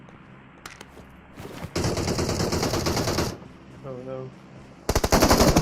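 Rapid bursts of gunfire ring out in PUBG Mobile shotgun combat, loud dense volleys at start and end with a brief voice in between.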